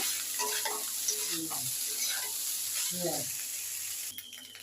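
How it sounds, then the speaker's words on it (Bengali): Leftover rice frying with egg and potatoes in a pan, with a steady close sizzle and occasional scraping stirs, alone without talk until it thins out near the end. "ভাতগুলো এবার ভালো করে ডিম আলুর সাথে ফ্রাই করে নেব।"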